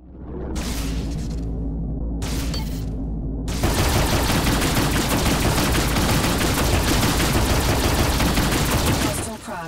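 Turrets firing at a spaceship in Rebel Galaxy Outlaw: two short bursts of gunfire, then a continuous loud barrage of rapid shots and impacts that runs for several seconds before cutting off.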